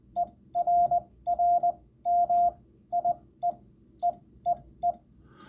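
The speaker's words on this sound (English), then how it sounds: "I'll send the word error and I'll screw it up." An amateur radio operator keys the word "error" in Morse code and deliberately botches it, producing a steady pitched tone in irregular short and long beeps with uneven gaps, fairly faint over low background noise.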